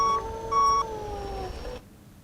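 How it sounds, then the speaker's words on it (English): A tow truck in the X-Plane 11 flight simulator beeps while reversing, a few short, thin electronic tones in quick succession, close and fairly soft, then fading out. "you hear that little beeping sound there"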